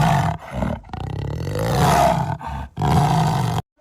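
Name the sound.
black panther roaring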